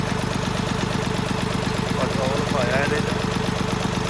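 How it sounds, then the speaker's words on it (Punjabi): A diesel tractor engine running on diesel mixed with petrol chugs steadily at idle with a rhythmic knocking throb, close by, while a voice speaks briefly over it. "ਹੁਣ ਇੰਜਣ 'ਚ ਠੰਡ ਪਾ ਕੇ ਵੀ ਕਿੰਨਾ ਚਿਰ ਚੱਲਦਾ ਇਹ"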